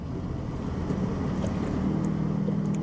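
A 2025 Nissan Almera VL Turbo sedan takes a corner, its engine and tyre noise forming a steady, close, low hum that swells slightly partway through.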